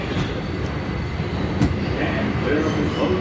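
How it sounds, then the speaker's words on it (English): NYC subway 7 local train, an R188 car bound for Flushing–Main Street, runs between stations with a steady loud rumble and wheel noise heard from inside the car, with faint clicks and squeal above. "This is a Flushing Main Street bound 7 local train."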